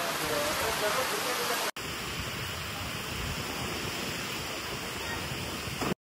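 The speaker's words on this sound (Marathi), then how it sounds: "बेकार पाऊस आलाय, बेकार." Heavy rain pounds a sheet-metal roof in a dense, steady roar, with one brief break early on, and faint voices underneath.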